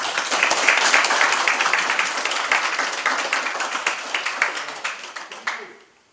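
Loud, close applause from many hands at a monument unveiling ceremony, sustained and then tapering off into quiet over several seconds.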